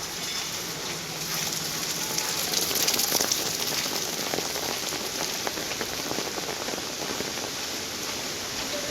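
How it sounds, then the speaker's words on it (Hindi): Rain falls on a metal sheet roof in Mumbai, making a dense, steady patter and hiss that holds at an even level throughout, with no voices. "ये देखिए ये बारिश"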